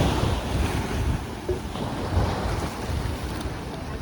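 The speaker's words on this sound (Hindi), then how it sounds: "कॉर्बियन बीच है और टाइड बहुत तेज़ है इधर रात में।" Strong night tide at Corbyn's Cove beach in Port Blair, Andaman: continuous loud surf roaring and breaking, mixed with heavy wind buffeting the microphone throughout.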